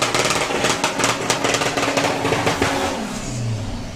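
A VW Polo drag car launches at full power during drag racing qualifying, its engine rasping loudly with rapid pulsing revs and gear changes before fading away in the distance.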